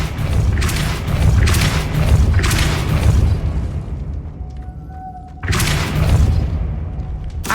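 Depulso spell spinning a platform mechanism in Hogwarts Legacy: dense, booming magical rumble with a thin whistling tone midway, a brief drop, then another loud surge.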